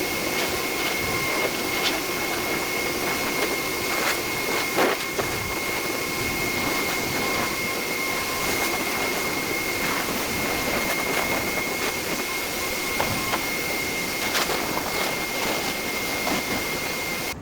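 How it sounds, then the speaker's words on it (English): A blow dryer blasts air continuously to blow water off a freshly washed car, a steady whooshing roar with a high whine, unbroken for the whole stretch. "we're going to dry the vehicle using the blow dryer"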